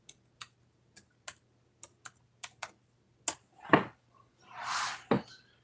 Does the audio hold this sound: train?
no